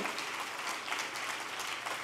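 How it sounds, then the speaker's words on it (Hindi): Steady audience applause fills a hall during a DXN company presentation at Birla Matoshree, an even wash of many hands clapping at moderate level with no talk over it. "तालियां हो रही है कि नहीं तालियां कमजोर पड़ रही है"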